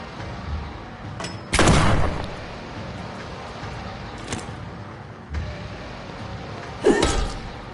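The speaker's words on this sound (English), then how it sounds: "Let's hit him with the shotgun." Shotgun blasts fire in the survival horror game Tormented Souls, two loud close booming shots several seconds apart, separated by quieter thuds and a dark ambient drone.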